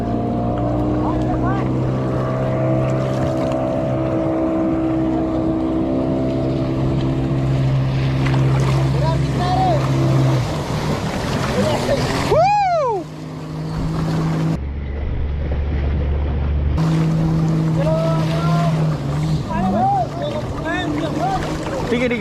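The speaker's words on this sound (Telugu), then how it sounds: "next ఎక్కిపోయేది bumper ride" Speedboat towing a bumper ride off the coast of Goa: a loud, steady motor drone whose pitch rises and falls as it changes speed, with splashing water and people talking over it.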